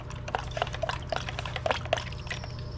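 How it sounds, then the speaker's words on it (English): Regular liquid vinegar is poured over chicken wings, giving a steady splashing trickle with scattered drips above a constant low hum. "we're just gonna pour it over top of the wings and mix it around the best I can"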